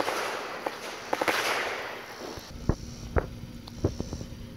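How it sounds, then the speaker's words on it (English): Neighbors' fireworks and firecrackers go off outdoors in a garden, several sharp scattered pops and bangs at middling distance over a soft hiss of a fizzing fuse. "my neighbors decided to set off fireworks."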